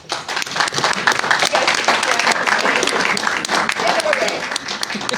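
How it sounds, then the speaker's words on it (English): Sustained applause from an audience at a League of Women Voters legislative town hall, dense steady clapping filling the room for several seconds, with some voices mixed in underneath. "let's give them a round of applause"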